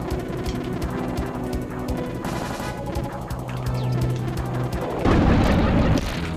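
Missiles firing from a ship in a SNES shooter video game, a dense, continuous barrage of booming blasts and rapid gunfire layered over game music, swelling into a louder burst near the end.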